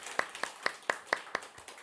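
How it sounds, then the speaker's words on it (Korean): A small scattering of hand claps in a church congregation welcoming a member at a worship service: about eight distinct, evenly spaced claps, faint and somewhat distant, rather than full applause. "박수로 환영하겠습니다"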